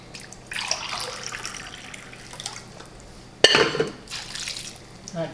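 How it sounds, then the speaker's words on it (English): Water poured from a cup into a pot of Thai vegetable soup, a short splashing pour near the middle with faint dripping before and after, close and fairly quiet. "I think I'm gonna go in with another cup of water."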